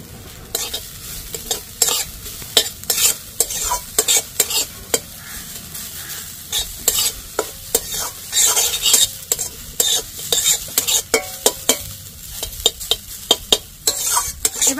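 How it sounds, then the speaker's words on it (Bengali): Potatoes frying in a pan with salt for Bengali potato payes, stirred throughout: a steady close sizzle broken by many sharp, irregular scraping strokes of a spatula against the pan. "আলু বেশি না ভাজলেও চলবে, আমি এরকম করে ভেজে নিয়েছি"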